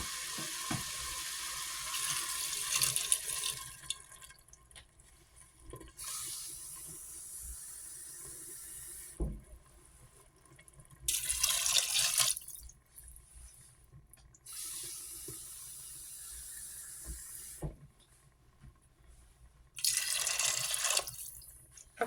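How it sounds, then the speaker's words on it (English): Water pours from a tap into an Instant Pot over macaroni in several separate bursts of rushing and splashing, with quiet drips and handling noises in the gaps between them. "And I'm going to cover this with water."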